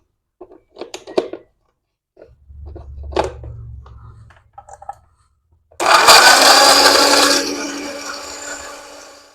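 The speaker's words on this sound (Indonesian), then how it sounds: "Bismillah, kita blender ya" A few scattered kitchen clinks and clatters, then a kitchen blender kicks on loudly and grinds a spice paste of coriander and a little water steadily for several seconds before easing down slightly.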